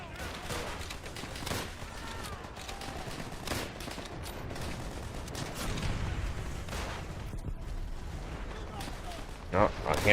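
Battlefield gunfire and blasts in Call of Duty: World at War, with dense rattling shots and a deeper explosive thump midway, a player's voice talking over the combat.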